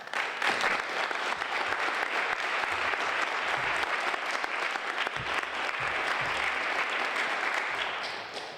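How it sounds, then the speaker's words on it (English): Sustained applause from a crowd at a Purple Heart Highway dedication ceremony, dense and steady from start to finish with no speech over it. "Let's give all of those who helped to bring us together today a round of applause."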